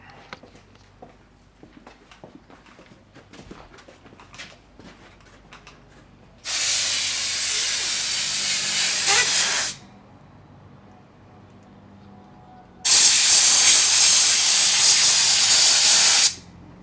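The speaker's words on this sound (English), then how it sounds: "blow these jets out" Compressed air blasts through the carburetor jets of an Arctic Cat EXT 600 snowmobile in two loud, sustained hissing bursts of about three seconds each, separated by quieter workshop clatter.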